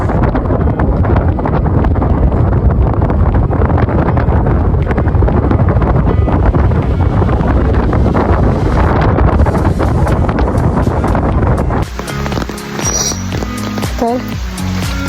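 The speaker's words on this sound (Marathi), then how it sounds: "थोडासा वाऱ्याचा आवाज ऐकूया" Strong wind buffets and roars loudly for a long stretch at Matheran, then drops abruptly into a calmer, patchier rush near the end.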